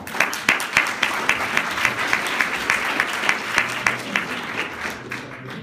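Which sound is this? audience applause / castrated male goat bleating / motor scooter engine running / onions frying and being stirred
audience applause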